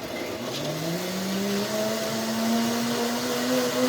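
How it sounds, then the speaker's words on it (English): A high-power 3-horsepower blender runs steadily, whirring loudly as it blends vegetable skins, its pitch rising gradually through the run, with no talk over it. "with the blender that I have, it's like 3 horsepower"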